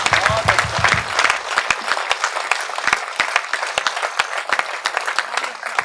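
Audience applause in a hall at a Hindi poetry recitation, dense clapping from many hands sustained throughout, loud and close, with a brief voice at the start.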